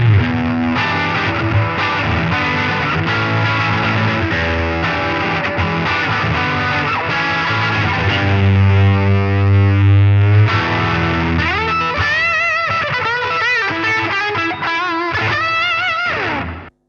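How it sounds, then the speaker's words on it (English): An electric guitar with single coil pickups, a Shergold Masquerader, plays through an MXR Timmy overdrive pedal at full gain on the third clipping position, giving a loud, sustained, distorted tone with chords and lead notes. "Let's see how the pedal sounds full gain, third clipping position with single coil pickups"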